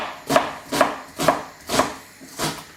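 Onions chopped with a knife, five dull, evenly spaced cuts landing about every half second, close and fairly loud in a kitchen, with no talking.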